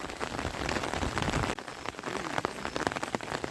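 Steady rain falling around a village at morning, a dense close hiss of drops on surfaces with no pauses and no talk.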